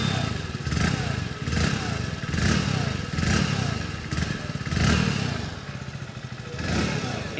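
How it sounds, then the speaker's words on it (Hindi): A 2025 Hero Splendor Plus All Black motorcycle engine running close by, a steady, throbbing single-cylinder idle with a gently pulsing rhythm throughout. "अब बाइक में किक से स्टार्ट कर लेते हैं। तो भाई सबसे पहले आप इसके साउंड को सुनो।"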